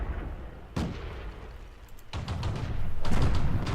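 Tank guns fire in the video game World of Tanks: three heavy, booming shots land about a second apart, each a sharp blast with a rumbling tail, loud and without talk.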